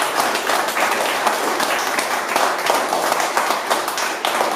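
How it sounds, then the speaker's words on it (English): An audience at a fight promotion event claps and applauds for the promoter, a dense, steady wash of many hands clapping at once, fairly loud and sustained, with no voices standing out. "He deserves a massive round of applause,"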